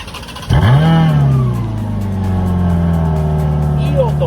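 A Ferrari F430 engine bursts into a loud rev, then drops back to a deep, rumbling idle close by, with faint voices underneath.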